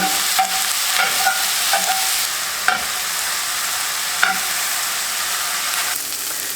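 Crumbled sausage sizzling in a frying pan while being chopped apart, a steady hiss broken by a handful of sharp utensil taps against the pan, close and without talk.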